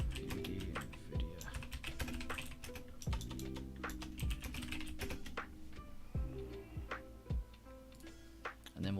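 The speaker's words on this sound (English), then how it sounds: "Let's type this." Computer keyboard being typed on at close range, with fast irregular clicking keystrokes in continuous bursts and occasional heavier key thumps.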